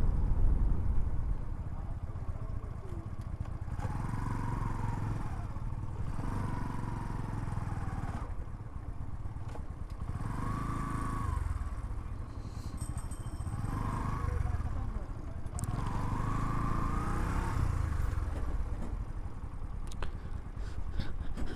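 A motorcycle ridden along a busy highway toward a railway line, its engine droning steadily with wind rush and road noise, while a rider talks over it.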